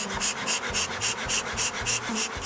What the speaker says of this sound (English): That is the sound of a smoker, a beekeeper smoker.